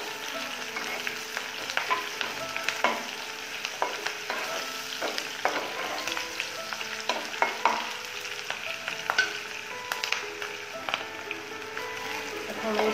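Chicken is stirred and fried in a pan for chow mein, giving a steady low sizzle under frequent scraping and tapping of a spatula. It stays fairly quiet and close, with no one talking.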